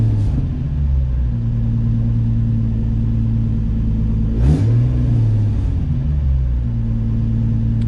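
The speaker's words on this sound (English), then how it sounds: "let me see if it revs up at least when I rev it" A car engine idles steadily, then revs up once sharply around the middle before settling back to a low, even idle, heard close and loud with no talking.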